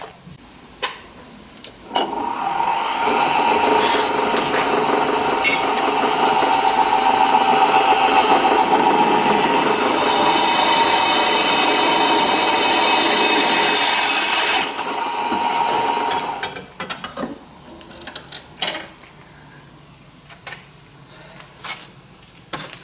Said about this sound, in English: drill that 8mm